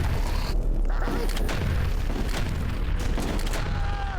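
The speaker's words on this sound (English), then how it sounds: "now it just fires the grenades like the hand cannon did, and it's called the Husak hand cannon" The Husak hand cannon fires grenades in the retro shooter HROT, producing repeated heavy booms and mechanical clunks in a dense, loud barrage of game noise.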